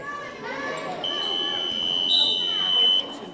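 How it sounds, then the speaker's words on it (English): A long electronic buzzer ending the third quarter of a middle school boys' basketball game sounds over crowd noise and chatter in a gym, holding for about two seconds before cutting off. "Buzzer sounds, that'll do it for the third quarter."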